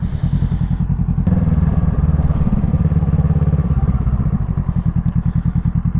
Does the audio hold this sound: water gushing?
no